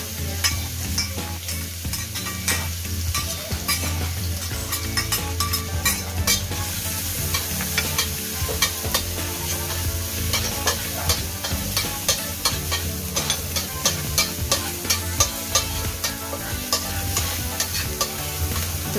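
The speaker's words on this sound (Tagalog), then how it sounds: "Maglagay ng mantika sa kawali. Tapos ay igisa ang luya." Ginger sautéing in hot oil in a wok for a vegetarian lo hon sauce, a steady loud sizzle with repeated stirring scrapes running throughout, close and alone with no voices.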